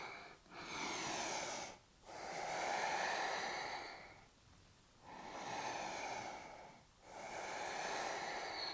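Deep, loud breaths drawn in and pushed out during a vinyasa yoga posture, four long airy breaths in a slow steady rhythm, very close, with no talking.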